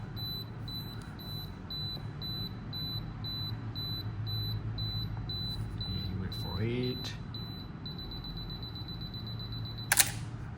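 A Canon AE-1 Program's self-timer beeps in a steady run of short electronic pulses for several seconds, then switches to a faster continuous beeping before the shutter fires with a sharp mechanical click near the end, while a voice speaks briefly.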